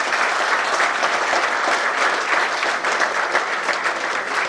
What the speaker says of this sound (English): We must give him a resounding applause.